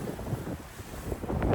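Strong wind of 33 to 40 knots gusts across a sailing boat off Lefkada, Greece, a loud buffeting roar rising and falling against the microphone with water noise beneath, no talking.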